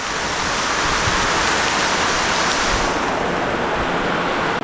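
Dense, steady roar of heavy rain with water rushing through a village lane nearby, a continuous broadband wash with no breaks.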